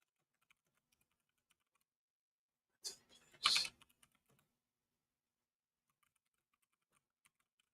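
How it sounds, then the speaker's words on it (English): A quick burst of clattering on a computer keyboard, close and brief, breaks an otherwise near-silent room, followed by a few scattered faint key clicks. "Sorry, guys, I'm typing, so I don't always talk when I'm typing."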